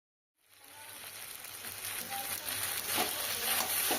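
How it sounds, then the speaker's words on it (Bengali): Fried potatoes and pointed gourd sautéing together in a pan, a steady broadband sizzle that rises from silence and holds close and moderately loud, with faint clinks and crackles throughout. "এবার ভেজে রাখা আলু আর পটল একসঙ্গে দিয়ে কষিয়ে নেব।"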